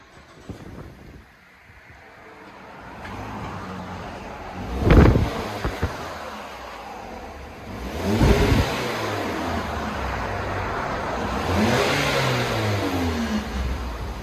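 A 2014 Ford Fusion SE with a 2.5-liter four-cylinder and stock exhaust revs in a few moderate bursts from idle, heard outdoors with wind buffeting the microphone.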